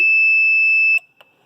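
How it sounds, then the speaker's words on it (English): A buzzer on a PIC 18F interface board, switched together with a relay, sounds a loud, steady electronic tone for about a second, then cuts off, followed by a couple of faint clicks. "Now I am pressing switch 0, so relay and buzzer has started"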